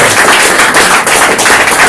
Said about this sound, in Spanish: Denle a Dios un aplauso.